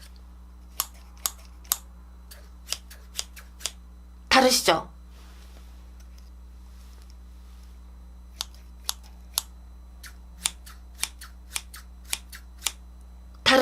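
A pair of scissors opens and closes repeatedly in sharp, crisp snips with a frictional scrape, one louder rasping stroke midway, and the cuts come in irregular close bursts against a faint hum, with a voice briefly speaking.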